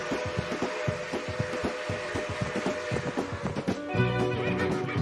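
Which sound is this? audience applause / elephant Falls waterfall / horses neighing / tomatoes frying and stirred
horses neighing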